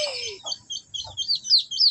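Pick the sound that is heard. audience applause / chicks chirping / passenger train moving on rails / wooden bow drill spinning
chicks chirping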